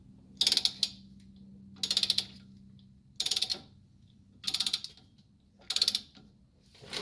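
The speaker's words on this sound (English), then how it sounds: "it's a click torque wrench. So once I get over a certain point, it's going to click." A click-type torque wrench ratchets on the brakes of a Ram 2500 pickup, five short bursts of rapid metallic clicking spaced about a second apart, close and clear against a quiet low hum.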